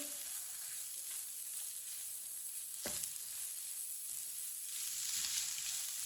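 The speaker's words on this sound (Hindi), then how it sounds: "1 मिनट के लिए मसालों को पका लेंगे।" Ground spices, including red chilli powder and turmeric, roasting in a pan over a low flame, giving a steady soft sizzle and hiss with one brief scrape partway through.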